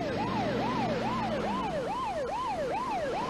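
An ambulance siren wails in a rapid repeating up-down sweep, loud and continuous over low traffic rumble.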